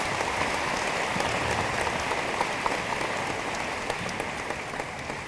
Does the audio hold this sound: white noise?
no